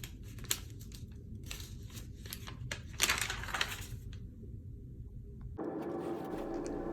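Typing on a keyboard while writing a college thesis statement, a busy run of quick clicks and taps up close, with a denser burst midway, then stopping as a steady hum takes over.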